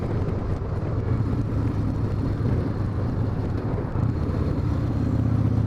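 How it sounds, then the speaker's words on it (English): A 1997 Harley-Davidson Wide Glide motorcycle engine braking under compression, its low, steady engine rumble sustained and close throughout with no throttle bursts. "This engine braking is phenomenal. This thing really has good compression braking."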